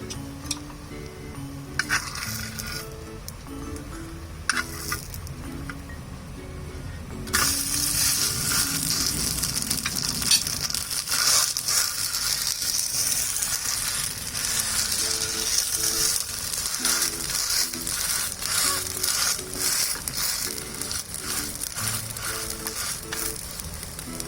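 A semolina uttapam sizzles on a pan after being flipped, a steady frying hiss that grows louder partway through, with faint clinks and scrapes of a utensil and no talking.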